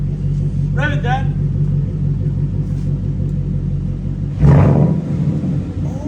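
S550 Ford Mustang GT fitted with an SR Performance axle-back exhaust, a deep idle rumble that swells into a loud rev near the end while people talk over it.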